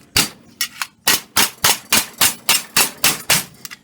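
Copper being hammered on an anvil while a cup is formed, with about ten evenly spaced, crisp, ringing metallic strikes close by and no speech.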